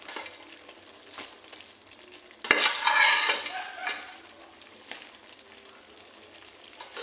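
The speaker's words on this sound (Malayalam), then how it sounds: "നമുക്ക് വിനാഗിരി എല്ലാം നല്ലപോലെ തിളച്ച് വന്നു." Vinegar boils in a pan for fish pickle with a close, crackling sizzle and some stirring clatter. A louder, hissing burst comes midway and then eases back to a softer, steady fizz.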